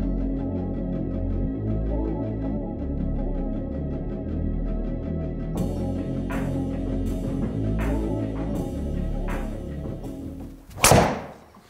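A golf driver strikes a ball during a test shot comparing low-spin drivers, a single sharp impact near the end that follows a long stretch of steady background rumble and faint ticking.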